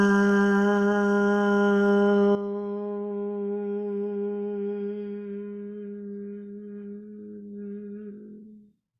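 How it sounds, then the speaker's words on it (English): A group chants a single long, sustained Om to close a yoga practice, a rich steady drone of blended voices that softens slightly partway through and fades out near the end. "So if you'd like to chant Om"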